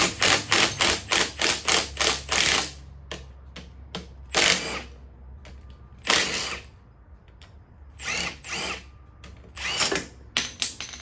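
Bolts come off a Kawasaki KDX250 under a 12 mm power driver, a rapid series of loud, close whirring bursts with ratcheting clicks and short pauses between them over a low background hum.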